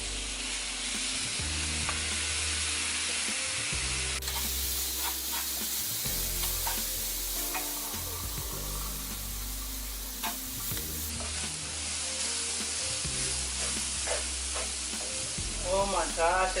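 Sausage and peppers sizzle loudly in a pan, a constant close hiss broken by repeated scraping strokes of stirring.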